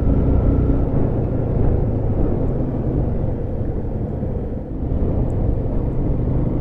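A Yamaha R15 V3 motorcycle on a highway ride from Kathmandu toward Charikot, Dolakha, produces a continuous loud engine and wind roar at steady speed.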